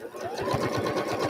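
A sewing machine runs a quarter-inch quilt seam with a rapid, even needle rhythm and a steady motor whir, close and continuous throughout.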